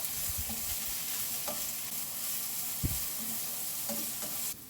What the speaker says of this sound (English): Now onion. Cook for about 2 minutes.